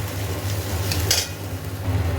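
Pea filling being sautéed with spices in a pan (karai), a steady close stirring and soft frying hiss with faint scraping, continuous and even throughout.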